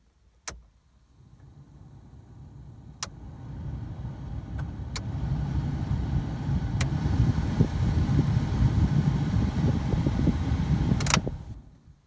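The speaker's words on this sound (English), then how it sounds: "turn on the fan," The heater blower fan in a Toyota Corolla starts with a few clicks after the ignition is turned on, then a whooshing airflow builds to a steady rush inside the car before it cuts off.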